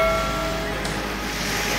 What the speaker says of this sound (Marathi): पाण्याचा आवाज तर तुम्हाला ऐकून येतच असेल।